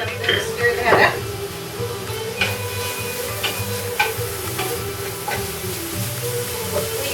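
A utensil stirs shallots and a colossal clove of garlic in a pan alongside bacon, with faint scraping and clicks over a steady low sizzle and a kitchen hum, while a voice talks over it.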